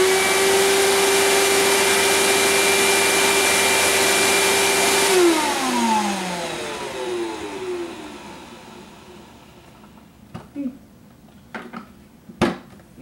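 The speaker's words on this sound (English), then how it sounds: "let's make sure the vacuum works." A Riccar or Bissell household vacuum cleaner runs with a loud, steady motor whine for about five seconds, then spins down with a falling pitch, followed by a few sharp handling knocks and clicks in a quiet room.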